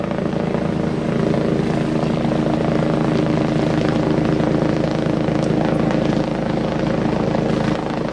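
A Lifeline medical helicopter comes in to land at a staged disaster drill, its rotor chop loud, steady and close throughout.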